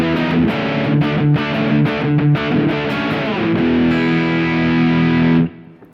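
Electric guitar on the bridge humbucker through a Super Crunch Box V2 distortion pedal at full volume, loud gritty chugging strums ending in a sustained ringing chord that cuts off abruptly.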